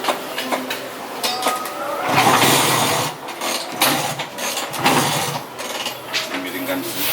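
A vintage scooter from around 1962–1964 is started with its starter in a garage. The engine churns and sputters with an uneven mid-pitched rumble, while people talk over it nearby.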